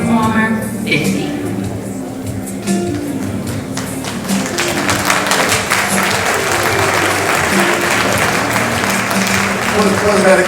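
Applause from the audience at the Washington Informer's 50th anniversary celebration at the Carnegie, a broad steady wash of clapping that runs throughout, with low music or voices underneath.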